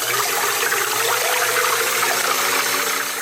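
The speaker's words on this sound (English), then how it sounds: "we're going to beat them until they get stiff and white" An electric mixer beats four egg whites toward stiff peaks, a steady close whirring motor with a watery, churning rattle that runs unbroken throughout.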